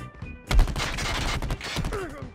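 Rapid gunfire from a gun in the mobile shooter COD Mobile, a dense burst of loud, close shots running for about two seconds, with brief pauses and a faint voice underneath.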